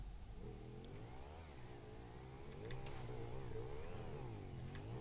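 A car in GTA 5 Online drives down a ramp, its mid-pitched engine revving and wavering up and down as it accelerates, steady and fairly faint, with no talking.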